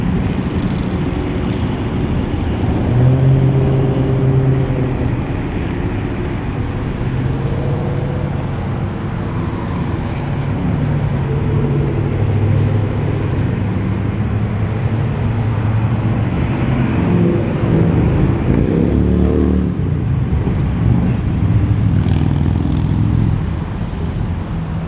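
Classic cars cruise along Woodward Avenue at night, their engines rumbling steadily as they pass close by in heavy traffic, with no voices.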